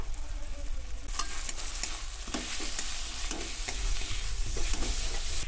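A spice paste with turmeric, chili powder and meat masala sizzles in a pan for a mutton biryani, a steady bright hiss broken by occasional scraping stirs, close and continuous, with no voices.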